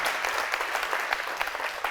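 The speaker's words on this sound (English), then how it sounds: "can we have a round of applause for Demi" Steady, dense applause from an evening audience at a business talk, many hands clapping together at a constant level for the whole stretch, with no voices above it.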